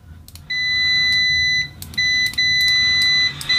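A Kaiweets ST600Y multimeter gives loud, high continuity beeps when its test leads touch, sounding as a few sustained tones of varying length separated by short gaps and brief scratchy contact noises.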